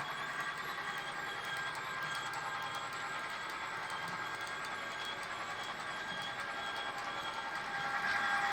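Model trains on the Portland & Ogdensburg model railroad in Portland, Maine, rolling steadily out of a helix at the top of the Crawford Notch grade, a continuous close running whir and rattle with no talk.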